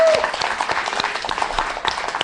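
Audience applause for DJ performers at a Delta360 event, a steady burst of clapping throughout with a brief dip near the end.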